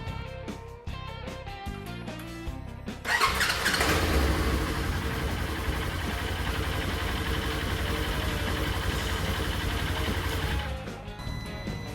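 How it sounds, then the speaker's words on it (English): A Polaris Ranger or RZR 570–900 engine with a DuraClutch R-Series kit is started in park: a few seconds of faint mechanical noise, then a loud catch into a steady, close running drone that drops away near the end. "we're going to go ahead and fire the machine back up, still in park"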